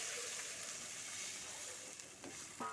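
Water poured onto spices frying in a pan for a potato and gram flour curry, a steady soft sizzle that swells with a louder splash right at the end, no voices.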